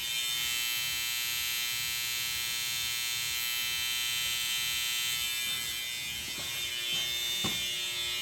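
Electric hair clipper, turned around to use the back end of the blade, shaping a beard line during a fast fade cut; a steady, close, high buzzing hum that runs throughout with slight changes near the end.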